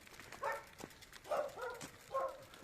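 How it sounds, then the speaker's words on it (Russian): Several dogs bark in short bursts from a village yard on a residential street, three clustered barking episodes spread across the moment, moderately distant and fairly faint, with no talking over them. "Ой, собаки лают."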